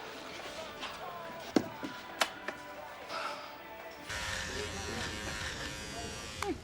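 An electric shaver buzzes steadily as a man is shaved indoors, with occasional sharp clicks and knocks. The buzz grows louder toward the end, and people speak over it.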